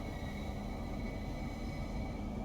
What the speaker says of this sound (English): The rolling sound of the heavy cars.